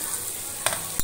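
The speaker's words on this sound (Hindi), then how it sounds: "अब इसमें मैं पिसे हुए मीठा आलू को" Mashed sweet potato hits a hot pan and sizzles, giving a steady hiss with two brief clatters near the end.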